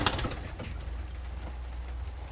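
Young breeder pigeons cooing in a loft, soft low murmuring calls close by, with a faint flutter at the start and a steady low background hum.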